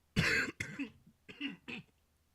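Four close, harsh coughs at a gaming conference: one strong, then a weaker one, a pause, and two more in quick succession.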